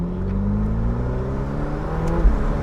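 A Ferrari sports car accelerates on a road in Dubai, its engine giving a steady, loud, rising drone heard close up from inside the car, with no talk.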